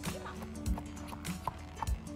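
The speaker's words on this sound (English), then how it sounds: "That horse is going on a walk." A horse out on a walk, its hooves clip-clopping in a short run of distinct, fairly close hits over about two seconds, with faint background noise and no clear talking.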